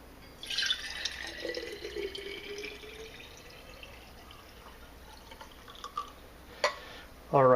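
Water poured into a 12 oz stainless steel vacuum insulated bottle, a light trickling stream with a faint rising tone, close and fairly quiet, with a brief voice partway through and a few knocks near the end.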